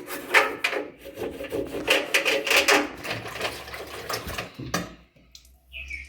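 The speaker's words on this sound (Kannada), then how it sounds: "ಈ ಥರ ಒಂದು ಟೂತ್ ಬ್ರಷ್ ತಗೊಂಡು ನೀಟಾಗಿ ಉಜ್ಕೋಬೇಕು." Close, rhythmic scrubbing of a toothbrush against the drum of a Bosch Series 6 front-load washing machine, steady bristle rasping strokes that slow and stop near the end.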